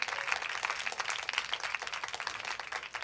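Continuous audience applause, a dense wash of many hands clapping throughout, steady and fairly loud.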